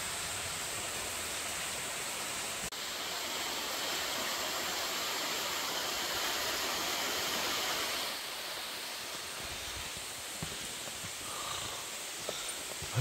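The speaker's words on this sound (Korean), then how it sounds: "세류 폭포라 해야 되나?" A small cascade of water on Oseosan mountain, a steady broadband rushing hiss heard close and continuous, slightly softer in the last few seconds, with no talk over it.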